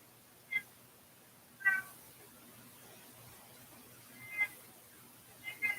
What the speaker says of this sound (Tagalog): Ingay naman ng pusa.